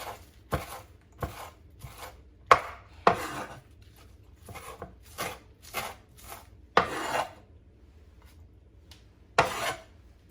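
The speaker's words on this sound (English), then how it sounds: "Finish up the slicing with my chives." Chives sliced with a knife on a cutting board, about a dozen crisp separate chops with short gaps between them, close and fairly quiet.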